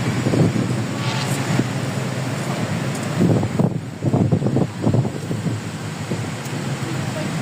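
Strong wind from a typhoon buffets the microphone with a constant roaring rush, while a person speaks in short bursts in Filipino over the gusts.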